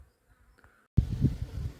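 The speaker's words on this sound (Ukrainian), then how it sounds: "І багато бджоли літа по полині" After a near-silent moment, a loud steady drone of honeybees flying over a wormwood field starts abruptly, buzzing close and continuous to the end.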